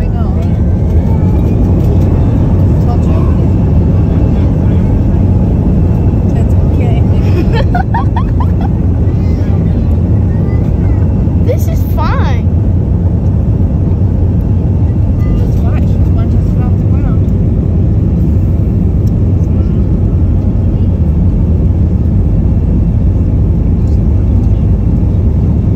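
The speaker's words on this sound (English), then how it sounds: "Gonna rev the engine." A small airplane engine revs up for takeoff on a flight in Indiana, a loud, steady, close droning rumble that holds for the whole stretch while voices speak now and then over it.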